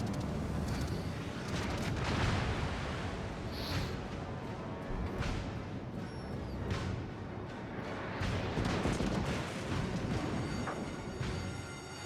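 Naval gunfire from battleship guns in World of Warships Legends, with heavy booming blasts repeating through dense, continuous battle noise at a steady loud level, with no voices heard.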